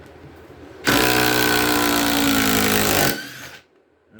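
A Ryobi impact driver drives a screw into treated lumber, a loud rapid hammering rattle lasting about two seconds before it cuts off, close by with no talking.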